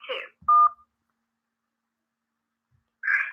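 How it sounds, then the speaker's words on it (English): A single telephone keypad tone from a key press, a short steady beep between brief bits of recorded voice prompt on a call-in line, clear and close with silence around it. "To accept, press 1."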